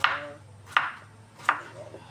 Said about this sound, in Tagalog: Tapos ngayon, hihiwain natin siya na